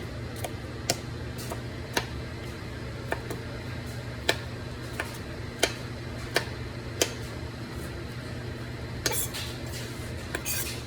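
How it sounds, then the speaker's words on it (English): A knife chopping squash taps sharply against a cutting board in steady, evenly spaced chops, close and crisp over a low background hum. "Chopping these a little more."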